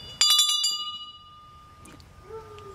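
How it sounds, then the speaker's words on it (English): A single bright bell rings with a quick rattling strike, then its clear tone lingers and fades against a quiet background. "Okay, bell."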